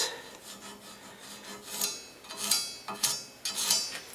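Hand saw cutting through a metal trailer tongue: a series of raspy, scraping strokes that grow louder and more separated toward the end, close and alone with no talk.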